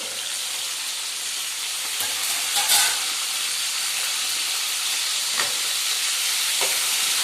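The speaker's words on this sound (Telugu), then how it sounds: "మిరపకాయలు నూనె వేసుకున్నప్పుడు కొంచెం జాగ్రత్తగా ఉండాలి, నూనె వెళ్తుంది" Chillies fry in hot oil with a continuous loud hiss and sizzle, broken now and then by sharper crackles and spatters, with no talking over it.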